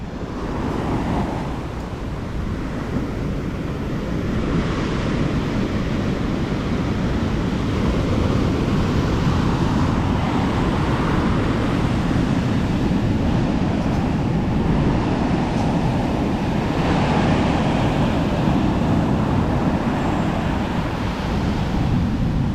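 Ocean waves breaking on Santa Monica beach in California, a steady loud roar of surf with wind buffeting the microphone, continuous and close throughout.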